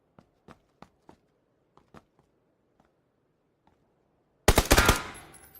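Gunfire in PUBG: scattered faint single shots pop at a distance, then a loud, close burst of rapid automatic fire cuts in near the end.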